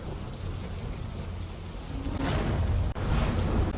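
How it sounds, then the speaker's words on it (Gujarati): Heavy monsoon rain pours down in Modasa and Dhansura, Aravalli, Gujarat, a dense steady hiss of drops on surfaces that swells louder in a brief rush partway through, with no voices. "સારો એવો વરસાદ વરસી રહ્યો છે"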